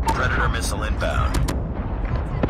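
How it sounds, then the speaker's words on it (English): An incoming missile strike in a Call of Duty 10 vs 10 domination match sets off booming blasts and gunfire, with a game voice speaking over the loud explosions. "Missile inbound."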